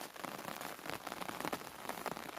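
Rain falls steadily on rice fields full of ripe grain, a dense, even patter of drops with no voices.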